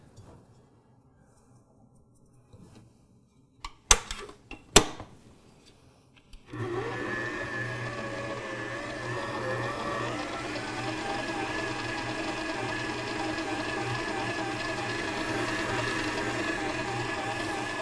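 A Farberware stand mixer kneads sticky dough with a steady, droning motor hum and a rhythmic mechanical churn, starting after a few clicks and knocks and running unbroken to the end.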